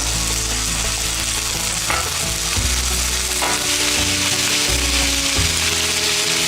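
Breakfast food frying on a small outdoor grill, a loud, continuous close-up sizzle and crackle with occasional soft scraping or stirring, no voices.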